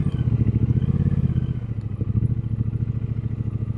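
A chrome Triumph Speedmaster motorcycle's engine runs loud and steady while riding, with a dense low throbbing pulse that continues throughout, briefly shifting tone midway, with no talk.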